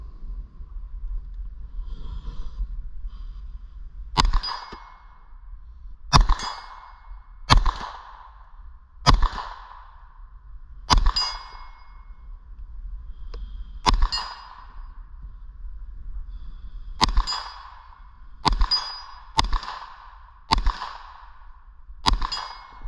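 A B&T APC9 Pro fires single shots at steel targets 50 yards downrange, each sharp, loud report followed by a metallic ring, in irregular bursts of about a dozen shots with short pauses outdoors.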